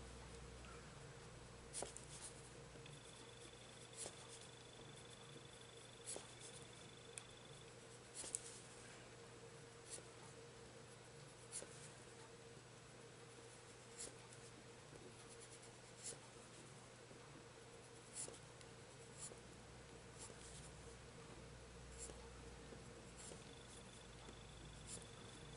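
Colored pencil scratching and shading on paper in an adult colouring book, a steady quiet rasp with small taps and strokes, close and soft throughout, with faint low hum underneath.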